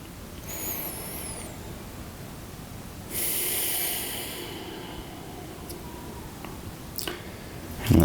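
One deep, airy breath drawn during a breathing exercise: a soft background hiss swells into a long, close rush of air, then fades back to quiet, with no talking.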